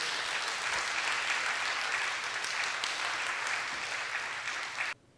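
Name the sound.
audience applause welcoming a speaker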